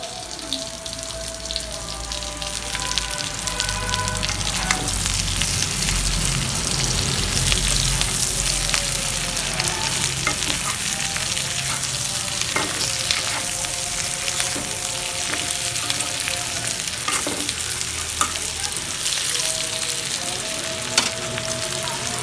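Curry sautéing in a pan with onion, garlic and ginger paste, chili powder and turmeric beside boiled potatoes, giving a steady close sizzle and fry throughout with scattered stirring clinks and scrapes, no talking.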